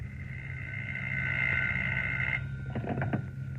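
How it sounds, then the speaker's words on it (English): A telephone rings as a sound effect in a 1938 radio drama: a sustained electric ring that cuts off, then a few shorter broken bursts over a low background hum. "I heard my phone ringing."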